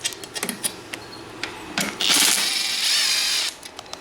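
A hand ratchet clicks on 10 mm bolts of a Yamaha Raptor 700R ATV, first in scattered taps and then in a loud, fast, sustained burst of ratcheting close by, with no talk.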